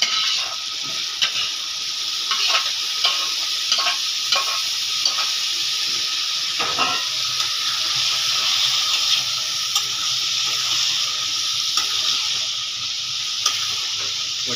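Chana masala with potatoes is stirred and sautéed in a pan, a steady loud sizzle and hiss with repeated scraping strokes of the spoon throughout, no talking.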